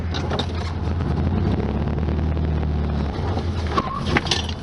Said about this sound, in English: Let's see if I can get it to skid right here in the driveway a little bit.